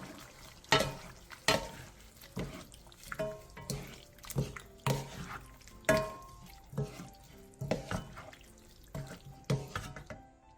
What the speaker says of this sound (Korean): 2분 정도 가볍게 더 볶아주세요